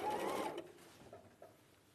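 A sewing machine stitches in a short, loud burst at the start, then falls to quiet room tone with faint handling noises.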